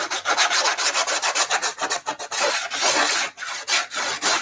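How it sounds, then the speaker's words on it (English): Rapid, repeated scraping strokes of a sanding board rubbing burrs off a hard surface, steady and close, with short pauses between bursts. "So I'm going to have to sand this."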